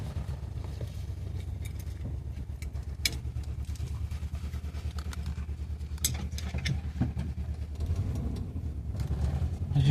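Classic car engine idling after a cold start, a low, steady rumble with a faint, even patter, close and continuous with small clicks and knocks over it.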